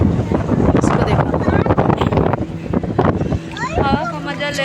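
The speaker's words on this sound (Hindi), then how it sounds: "इतनी ठंडी हवा चल रही है यहाँ पे" A cold night wind blows along the Ganga riverside in Patna, buffeting the microphone with a rough rumble beneath continuous nearby talk.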